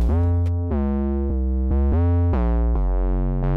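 Synthesized 808 kick drum with overdrive, built in Korg Gadget, plays a run of booming bass hits with a sharp click at each attack, close and loud, some notes sliding in pitch.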